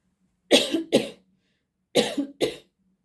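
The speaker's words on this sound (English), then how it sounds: "Excuse me guys, I'm just going to cough." Two quick pairs of coughs, close and loud, with a short pause between the pairs and quiet in between.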